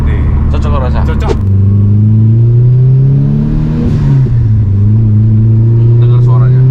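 A Subaru GC8 two-door Type R sits idling with a close, loud engine drone, then is blipped and revved so the pitch climbs and falls before settling back, with brief voices at the start and end.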